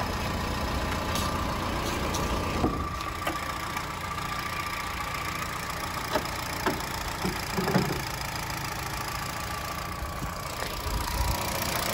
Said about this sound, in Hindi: स्टार्ट होने के बाद ये नॉइज इसमें आपको मिल जाती है।